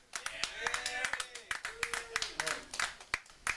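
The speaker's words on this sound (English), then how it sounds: "So let's give a round of applause for that" A bar audience gives a round of applause, a dense patter of claps running steadily throughout at moderate loudness, with voices talking over it.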